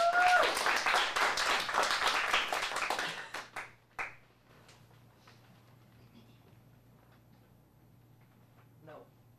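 Audience applause for a performer at a teen showcase, a burst of clapping with a few cheers that fades to scattered claps after a few seconds, followed by near silence.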